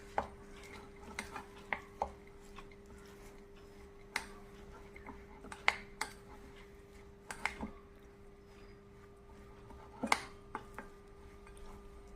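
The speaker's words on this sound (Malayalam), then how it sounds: "നമുക്കിതൊക്കെ സ്പൂണും കൊണ്ട് നമുക്ക് ഇളക്കാം" A spoon stirs sweetened wheat kozhukatta dough with cashews in a pot, giving scattered quiet taps and clicks against the vessel over a steady low hum, with no talking.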